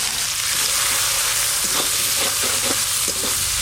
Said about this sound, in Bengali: একটু পেঁয়াজ কুচি ভালো করে ভাজা ভাজা করব